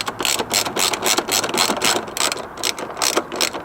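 Repeated ratchet clicks as bolts on a Nissan 350Z hatch strut are tightened, a fast, steady run of close, loud mechanical clicking in short bursts with brief pauses, no voices.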